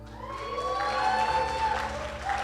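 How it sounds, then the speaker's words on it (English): An audience claps and cheers together in a church service, a dense steady patter of hands lasting the whole moment, mixed with sustained musical tones underneath. "People clap!"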